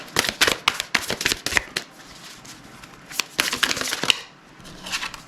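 A deck of tarot cards is shuffled up close in two bursts of quick, riffling paper flutter, separated by a short pause, with no speech.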